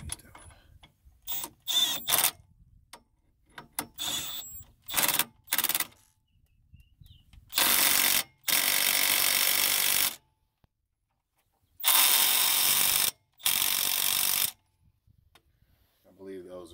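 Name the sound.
torque wrench tightening brake caliper bolts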